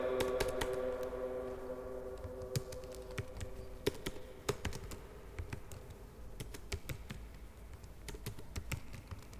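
Typing on a computer keyboard in MS Word: a quiet, irregular run of close key taps, with short bursts and gaps, over a faint background hum.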